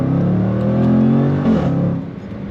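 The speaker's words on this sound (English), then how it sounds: "But man, that exhaust" A 2026 Jaguar F-Pace SVR 575 Edition engine revs hard up close, a deep growling exhaust climbing in pitch, then dropping back as the throttle eases.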